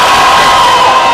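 A rally crowd cheers loudly in a brief burst, a dense roar of shouting voices with little distinct clapping, heard as video playback.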